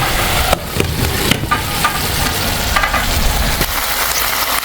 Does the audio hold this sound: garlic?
yes